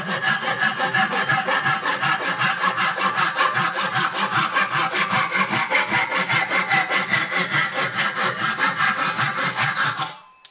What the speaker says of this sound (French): Moi j'adore découper avec cette scie.